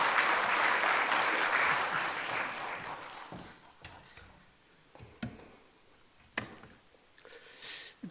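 A church congregation at a Wednesday prayer meeting applauds to welcome a missionary speaker: sustained, dense clapping that slowly thins out, ending in a few scattered claps.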